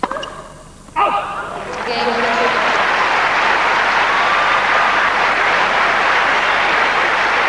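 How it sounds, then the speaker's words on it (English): A tennis crowd at the Australian Open 2000 women's match between Hingis and Testud breaks into generous applause, a dense, loud, sustained wash of clapping that builds after a quieter start and holds steady. "Again, the applause is generous,"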